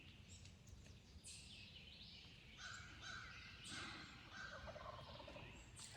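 A wild turkey gobbler in the Pennsylvania spring woods gives a soft gobble, a faint distant rattle of calls heard among quiet forest background.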